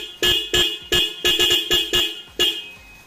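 Repeated short honks from a 2012 motorcycle horn, weak battery, engine off, come in an uneven series of about eight close, loud beeps with brief gaps between them.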